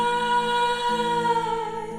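Piano and voice mix heard through room reverb alone, a steady sustained wash of harmonic tones with a soft shift partway, moderately loud and without any talking.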